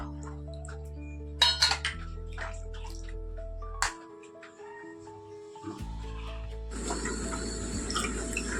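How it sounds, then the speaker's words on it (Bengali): Rice is washed in water at a kitchen sink, with clinking of utensils against a pot, a few soft splashes, and then a steady rush of running tap water near the end. "দেখো চালটাকে ধুয়ে নিয়ে আগে একটু"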